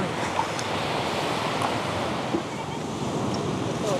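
Ocean waves at a night seafood market in Son Tra, Da Nang, make a steady wash of surf with wind rumble. Faint sounds of the market are scattered on top.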